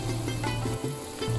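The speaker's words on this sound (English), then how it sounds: "Let's fry all this together again" Spinach and whisked yogurt masala fries in a pan over a medium flame for a Himachali Sepu Wadi dish, giving a steady close sizzle with small bursts as it is stirred.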